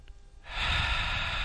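A slow, steady inhale during a pelvic floor exercise, starting after a short quiet pause and rising into a sustained, airy breath that holds level to the end, close to the microphone, with no talking.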